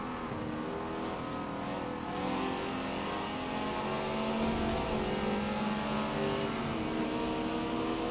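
A race car engine roars around a track in the racing game Forza Motorsport 7, loud and continuous, its pitch rising and falling as the car accelerates and shifts, with no break in the sound.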